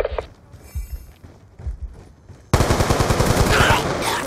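Gunfire in Black Ops 2 on Wii U, first a few separate shots and thuds, then a loud sustained burst of rapid automatic fire filling the second half, close and dense.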